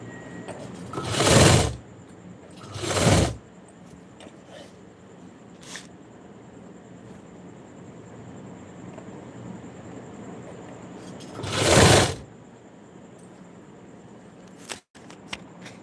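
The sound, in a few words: sewing machine stitching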